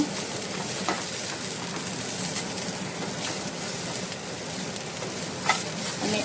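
Turmeric and ginger-garlic paste get stirred into whole masoor dal frying in a pan, making a steady bright sizzle with occasional scraping knocks of the spoon, close and continuous with no talk.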